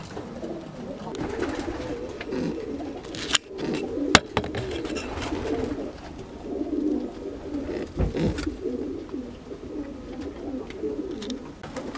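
Roller pigeons coo in low, soft, repeated calls throughout, close by and fairly quiet, with a couple of sharp knocks and faint background noise.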